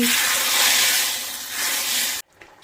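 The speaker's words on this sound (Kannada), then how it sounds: "ಒಗ್ಗರಣೆ ಹಾಕ್ತಾ ಇದ್ದೀನಿ." Hot mustard seeds, curry leaves and a dried red chilli in oil poured into masoor dal and drumstick sambar, giving a loud, steady hiss that fills two seconds, then cuts off abruptly to near silence.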